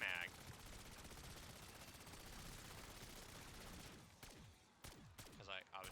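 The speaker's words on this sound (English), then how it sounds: "I'm gonna shoot a mag." A 1911 pistol firing in Black Ops 7 Zombies, heard as a dense burst of loud gunfire that fills the first four seconds, followed by a few sharp, separate shots and mechanical clatter near the end.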